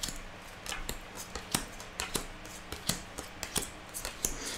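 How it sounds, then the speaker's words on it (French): Tarot cards being shuffled and laid down, a run of light, crisp snaps and soft flicks at an uneven rhythm, close and fairly quiet with no talking. "Alors, on remélange encore un petit peu. Et on va poser les cartes."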